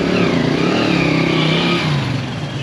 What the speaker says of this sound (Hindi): ये ट्रैफिक मैं बार बार नहीं सुना सकता